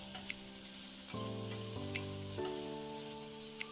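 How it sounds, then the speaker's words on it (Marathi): Dried fish (sukat) fries in a pan, a close, continuous sizzle with light crackles and stirring, while a faint musical tone plays softly in the background. "हे बघा, आता आपलं सुकट छान फ्राय झालंय."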